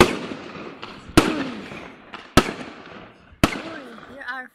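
Fireworks go off in a residential neighborhood at New Year, with four sharp, loud bangs spaced about a second apart, each trailing into crackling echoes, and a faint voice briefly audible at the end.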